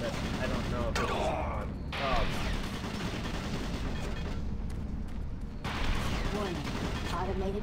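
Heavy sustained weapon fire in the Doom 3 video game, dense bursts of rocket launcher blasts and machine-gun-like rattling in loud stretches separated by brief lulls, with a voice talking over parts of it.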